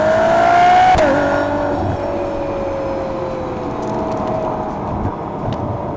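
Ferrari V12 engine car with a steady engine tone that drops in pitch after a brief rise, a loud sustained drone continuing throughout with no talking.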